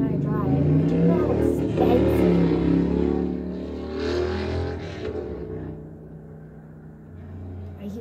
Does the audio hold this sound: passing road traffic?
yes